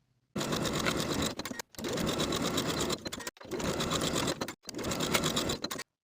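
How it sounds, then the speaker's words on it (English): A sewing machine stitches seams on dress facings in four steady bursts of close, even mechanical whirring, each stopping abruptly with a short silence between runs. "Now I'll sew these seams with a 1/2 inch seam allowance and press the seams open."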